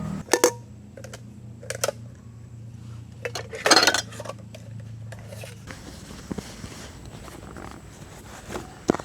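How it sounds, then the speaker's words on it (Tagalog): Cooking pots are handled while packing up camp. Sharp metallic clanks and clinks come in irregular bursts, one louder clatter in the middle, over a quiet low hum that stops partway through. "Unahin muna natin itong mga kaldero."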